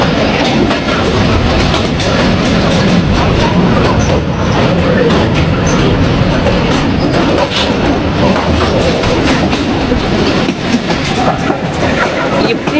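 Mallika commuter local train running from Rajshahi toward Chapai Nawabganj on a rainy day, a loud, unbroken rumble and rattling clatter of carriages filling the whole stretch, with faint voices mixed in.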